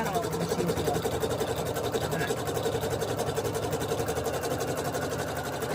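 Embroidery machine stitching down batting in the hoop, a steady rapid mechanical chatter with a rhythmic needle pulse running continuously at close range, a voice speaking over it.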